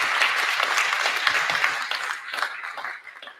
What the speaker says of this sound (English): Give Marcia a roaring round of applause.